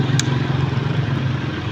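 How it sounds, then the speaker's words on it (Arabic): An electric cement sprayer motor runs with a steady, loud, droning hum that holds an even tone throughout, with a brief higher click near the start. "دي البخاخة شغالة اهيت"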